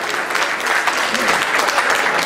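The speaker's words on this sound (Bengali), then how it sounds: "আরো একটি করতালি হবে।" An audience claps at a Bengali New Year celebration in New York, making a dense, even wash of applause that holds at the same loudness for the whole short stretch.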